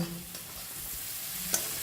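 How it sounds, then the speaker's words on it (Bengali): Cooked rice gets stirred into a pan of fried spiced ingredients, including nutmeg powder, a continuous soft sizzle broken by a couple of scraping strokes and a sharp utensil knock near the end. "এবার আমি ভাতের সাথে সব অ্যাড করব"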